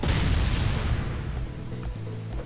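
A loud, rumbling blast with a broad crackling burst that slowly fades, followed by low thuds, like an explosion in the Android game Naruto X Boruto Ninja Voltage.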